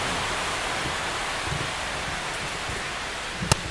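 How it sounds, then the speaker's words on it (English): Steady rainfall over a ballpark in the baseball game MLB The Show 25, a dense, even hiss that runs without a break, with one brief sharp tap near the end. "It feels like we might be headed towards a rain delay if the weather doesn't ease up, Chris."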